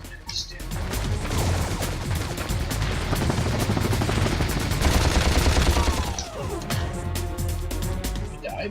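Rapid gunfire from a turret in the Ratchet and Clank video game rattles on steadily and loudly throughout, layered with other game noise and effects.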